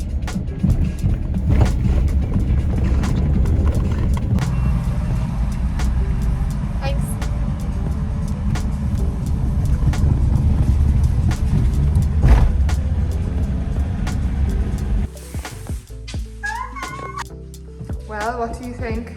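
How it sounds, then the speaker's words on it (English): A car drives onto a ferry in Ireland with a loud, steady, low engine-and-deck rumble for about fifteen seconds. It then drops to a quieter hum with some higher sounds and voices near the end. "Driving on the boat, driving on the boat!"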